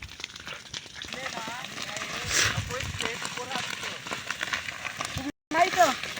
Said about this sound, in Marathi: आग वाढलेली आहे मित्रांनो